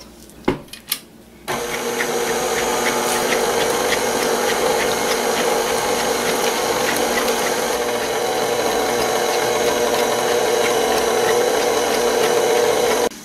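Electric hand mixer beating cupcake batter with baking powder at medium speed, a steady loud whirring motor hum that starts after a few brief knocks and runs evenly to the end, with no talk.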